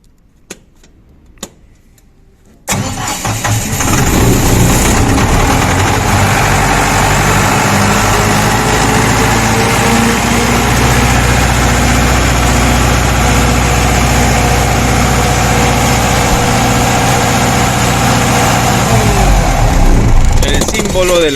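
A generator engine governed by a DSE6020 controller cranks and fires after a few faint clicks, then settles into a loud, steady low-frequency idle that runs unbroken to the end, with a voice speaking over it.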